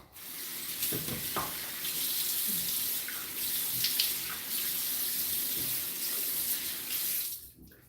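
Tap water running steadily into a bathroom sink while a face is wetted before a wet shave, a continuous close splashing hiss with brief splashes of hands in the stream.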